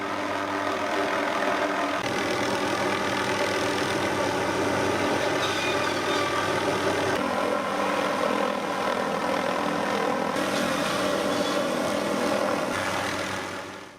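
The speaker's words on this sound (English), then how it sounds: "The tree saw hangs below the helicopter from an aluminum tube, and the tube basically just is a carry mount for the saw." A helicopter carries a gas-motor tree saw hanging below it from an aluminum tube mount. The engine and rotor drone is loud and steady throughout, with no speech.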